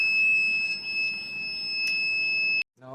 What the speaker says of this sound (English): this is buzzer for indication purpose only